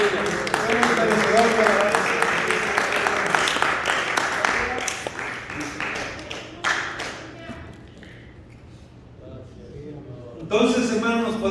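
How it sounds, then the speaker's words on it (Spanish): A church congregation applauds with sustained clapping mixed with voices for several seconds, then fades into quieter talk before a fresh burst of clapping near the end. "Denle un aplauso al Señor"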